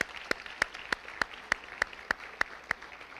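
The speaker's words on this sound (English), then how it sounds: "Let's give a quick round of applause for that." Audience applause at an athletics recognition event for a team that won its first division title in 14 years, heard as sharp, evenly spaced claps at a steady rhythm from a small group, fairly close.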